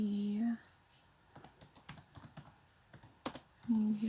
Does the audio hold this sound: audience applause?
no